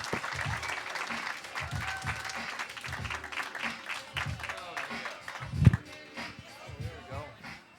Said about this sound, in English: How about a round of applause for Peter Liu